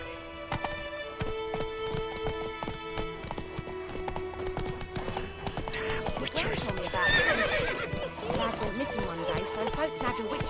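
Roach, a horse in The Witcher video game, gallops with steady rapid hoofbeats and neighs amid layered game sound and music, loud and close.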